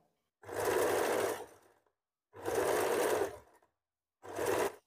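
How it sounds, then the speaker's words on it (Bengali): A sewing machine stitches slowly in three separate bursts, each a steady whirring run of about a second, close and clear, with silent gaps between and no speech. "এবার দেখো একেবারে আস্তে আস্তে সেলাই করব, কোনো টান রাখবো না"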